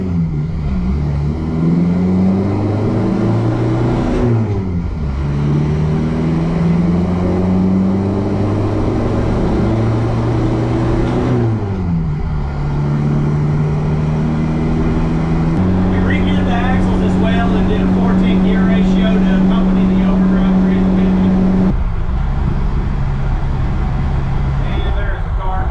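An International Scout 80 swapped with a Cummins 2.8 diesel drives along, its engine note rising through several gears with pauses between shifts, then holding a steady drone on a loud, close recording.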